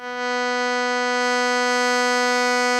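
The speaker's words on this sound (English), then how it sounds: "now the signal of my keyboard is being driven into this amplifier" A keyboard's sustained tone driven through an amplifier feeding a talkbox: one steady, bright, buzzy note rich in overtones swells in at the start and holds loud and unchanging.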